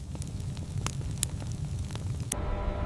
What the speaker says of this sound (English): In this silence, even fire sounds alive.